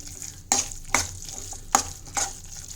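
Carrot burfi mixture cooked with ghee in a pan and stirred with a spoon: four distinct scraping knocks at roughly half-second gaps over a faint low sizzle, close and alone with no voices.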